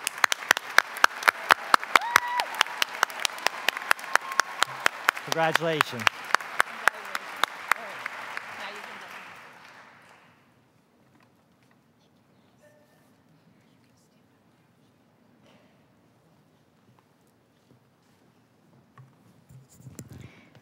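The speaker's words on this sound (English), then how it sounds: "So one last round of applause for our group." An audience at a medical school white coat ceremony applauds warmly for several seconds, then the clapping tapers off into near silence with faint room noise and a brief spoken word.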